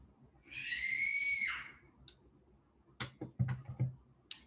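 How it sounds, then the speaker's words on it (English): A person lets out a high-pitched scream lasting about a second, loud against a quiet room, then a few scattered clicks and light taps follow. "Sorry for the screaming."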